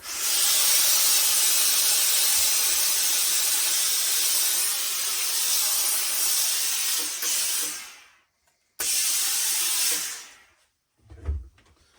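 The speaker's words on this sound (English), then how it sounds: "let's see what happens when I put a bit more steam on it" A steamer hisses steadily and loudly for several seconds while steaming a felt Homburg hat during a restoration. The hiss cuts out, bursts back briefly, and stops again, ending with a soft thump.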